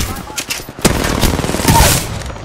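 Rapid bursts of gunfire crackle loudly in a fast-paced shooter video game, with several close shots in quick succession.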